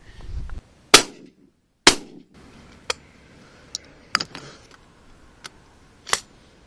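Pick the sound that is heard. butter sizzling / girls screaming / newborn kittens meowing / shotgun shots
shotgun shots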